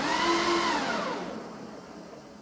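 The electric motor of a Sinclair C5 whirs with a rising whine that sweeps upward in pitch and then fades as it winds down, leaving a quiet hum.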